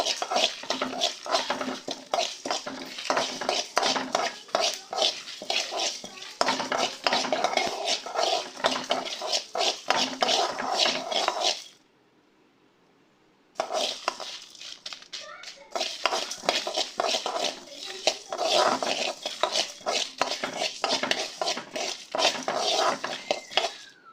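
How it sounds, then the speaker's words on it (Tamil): Black pepper and dried chilies dry-roasting in a pan on the stove, giving a dense, continuous crackle and rattle of spices being stirred and tossed, with a short pause midway before the sizzling scrape resumes. "நல்லா வறுத்துக்கலாம் நல்லா பொறிஞ்சு வருது பாருங்கள்"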